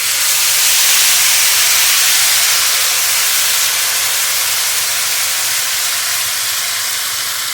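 Loud, steady sizzling hiss of sauce cooking in a hot pan, continuous and close, with no talking.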